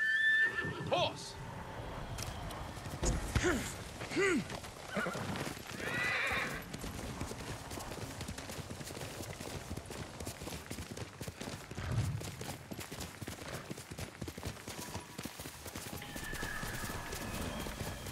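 Horse in the Ghost of Tsushima video game neighs sharply, then its hooves clip-clop in a quick, steady rhythm under battle noise and voices.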